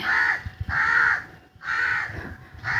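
Crows cawing close by: several loud, harsh caws in two bursts, with no talk over them.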